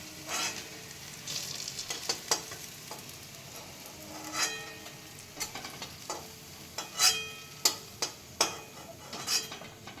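Potol kofta balls fry in oil with a soft, steady sizzle, while a spatula or spoon clinks and scrapes against the pan in scattered sharp knocks, fairly quiet and close, with no voices.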